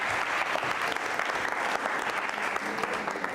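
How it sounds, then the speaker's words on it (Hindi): Audience applause at a school quiz show in Jaipur, a dense, steady wash of clapping that holds at an even level throughout, close and loud. "बजाओ सब तालियां एक बार फिर चौधरी साहब के लिए जोरदार तरीके से"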